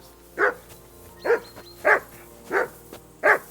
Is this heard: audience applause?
no